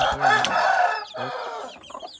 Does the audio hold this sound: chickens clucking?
yes